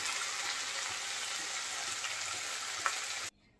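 Green beans and shrimp sizzle steadily in a frying pan, a dense continuous hiss with one brief clink near the end before the sound cuts off abruptly.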